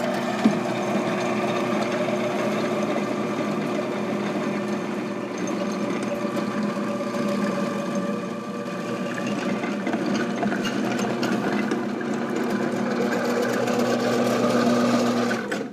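Robot Coupe CL 52 commercial food processor shredding a three-pound load of cheese in one continuous pass, a steady, close mechanical whir and rattle that hums on without a break and without talk.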